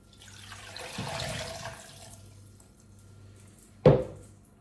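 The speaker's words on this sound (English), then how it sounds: "And add 700 milliliters of water." Water splashes and runs into a soup pot with bacon for a couple of seconds, followed by a sharp metallic clunk near the end.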